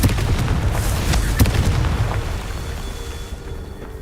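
The Confringo fire spell from Hogwarts Legacy goes off in a deep, booming explosion that rolls on and fades over a few seconds, with a sharp crack partway through.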